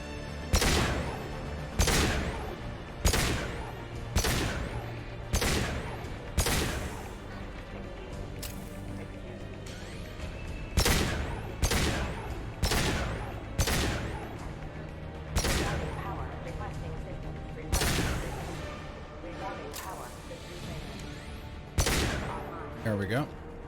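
Repeated sharp shots ring out in bursts of one to three, spaced a second or two apart, over a steady low game ambience in the PC game Mass Effect 2; the shots are loud and close.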